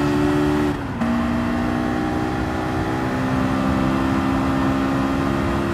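A Honda S2000 in Gran Turismo 7 holds a loud, steady high-revving engine note, with a brief dip near the first second as it shifts gears before pulling on strongly and continuously, with no voices over it.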